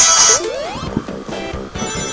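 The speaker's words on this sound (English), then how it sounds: "That was my phone. Like, I should really mute my phone when I do these." A mobile phone ringtone going off mid-play during a Sonic 2 game session, a loud close melodic electronic tune with warbling tones mixed over game sounds, no speech.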